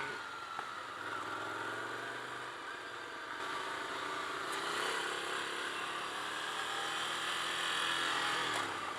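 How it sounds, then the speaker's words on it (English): A Ducati Scrambler Desert Sled motorcycle engine rumbles and shifts pitch as it is ridden around the Laguna Seca track, heard under wind noise at moderate level. "that was a ride of the quick Ducati Scrambler around Laguna Seca"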